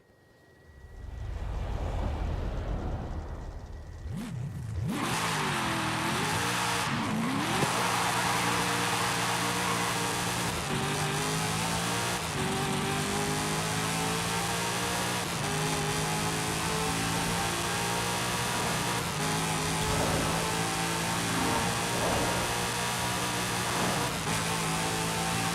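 Corvette ZR1 with a factory 6-speed manual, driven in Forza Horizon 5, its engine droning loud and steady with rising and falling revs after a quiet start, no voices over it.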